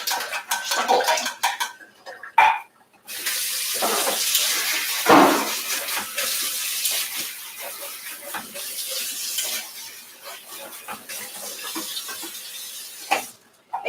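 Canned sliced olives drained and rinsed in a kitchen, running water splashing steadily into a sink with clinks of metal and utensils, a louder knock near the start and end.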